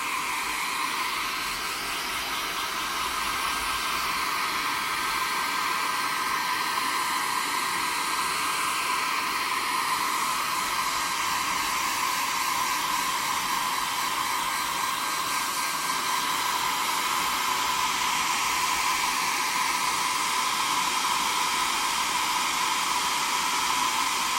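A hair dryer blows continuously at close range, a steady loud whirring hiss with no pauses or voices.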